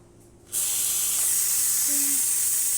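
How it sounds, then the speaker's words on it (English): Steam wand on a Lelit Mara X espresso machine opens after a short quiet moment, releasing a loud, steady, close-up hiss of strong steam that continues to the end. "nice strong steam"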